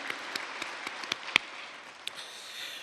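A church congregation claps in praise after the Lord's Prayer, with scattered sharp hand claps over a steady hiss of room noise, one louder clap standing out before the sound fades into a soft wash.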